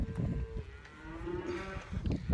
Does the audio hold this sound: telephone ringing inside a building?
no